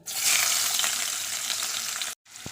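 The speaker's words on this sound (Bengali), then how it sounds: "এখন ওই একই কড়ার মধ্যে দিয়ে দিচ্ছি পেঁয়াজ কুচি" Chopped onions dropped into hot oil in a wok, sending up a loud steady sizzle that cuts off abruptly near the end, followed by a short quieter burst of frying.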